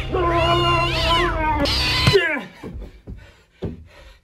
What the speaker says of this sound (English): Us trying to trim our cat's nails.